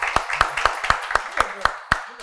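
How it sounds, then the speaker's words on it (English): Hand clapping during a podcast conversation, eight sharp, evenly spaced claps in a steady rhythm, close and loud. "Yo, clap that up"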